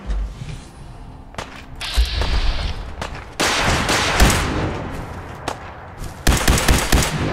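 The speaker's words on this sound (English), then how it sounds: "I don't like the sound of the rockets." Rockets and gunfire in a Fallout 4 survival battle boom and crackle loudly in repeated bursts, sharp blasts and rolling volleys clustering in several waves with short lulls between them.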